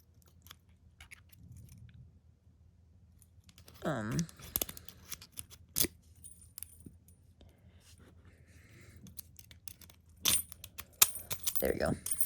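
Faint metallic clicks, scrapes and small jangles come from picking a clear six-pin Master Lock 140 tumbler padlock, in sparse irregular bursts with quiet gaps.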